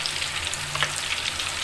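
Kofta meatballs frying in hot oil in a pan, a steady close sizzle and crackle throughout with no talking.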